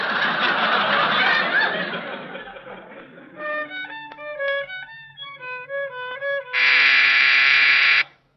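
A few bowed violin notes play haltingly after a burst of noisy rustle, ending on a long sustained tone that cuts off abruptly.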